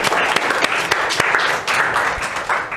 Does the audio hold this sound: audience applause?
yes